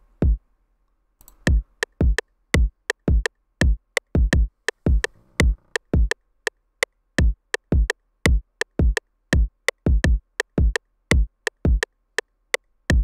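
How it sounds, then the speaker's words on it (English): Two layered kick drums sequenced in FL Studio for a trap beat, a steady pattern of punchy booming hits repeating alone, with a few quick doubled hits, after a brief silent start. "Next is the kick. I got two kicks."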